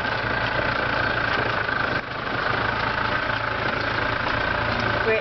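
A golf cart engine idles close by in a steady, loud, continuous rumble with a low throb and even tone, used while leading a horse on a farm.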